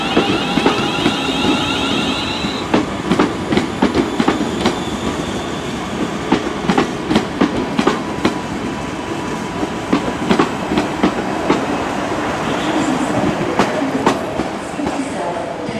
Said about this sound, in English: And now leaving with a service to London Euston, 350-111, London Midlands service to London Euston